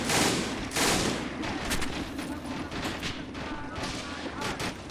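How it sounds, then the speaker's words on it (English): Gunfire in a Men of War: Assault Squad 2 battle at Foy, with a possible .30 cal machine gun: sharp distant shots and bursts cracking irregularly amid a low battlefield rumble, a few louder reports near the start, with speech over it. "is that mortars, or it sound like a 30 cal firing at some point"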